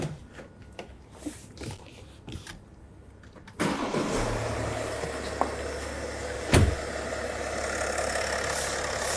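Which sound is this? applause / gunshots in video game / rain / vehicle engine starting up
vehicle engine starting up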